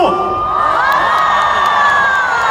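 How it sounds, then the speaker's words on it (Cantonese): A crowd at a celebrity gathering cheers loudly, with overlapping high shouts and whoops from many voices, near and sustained throughout. "我想聽到大家歡呼"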